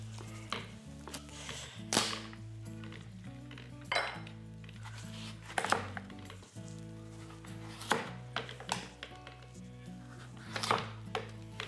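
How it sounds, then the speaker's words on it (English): A kombucha pumpkin being chopped on a board, repeated heavy knife thuds at a steady pace with clinks of the blade between cuts, close and fairly quiet. "The first thing I'm going to do is roast this beautiful kombucha pumpkin that Rob has grown. So I'm just going to chop it up."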